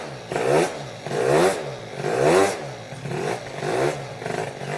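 A rebuilt Yamaha BWS 50 scooter with a stronger crankshaft, bigger carburetor and larger intake runs with its idle set too high, the small engine surging up and down in repeated swells close by.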